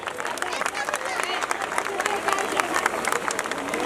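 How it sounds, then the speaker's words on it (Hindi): Loud, dense applause from a crowd of parents and guests at a school annual function, steady clapping running continuously throughout with some cheering mixed in. "एक बार जोरदार तालियां सारे पेरेंट्स के लिए"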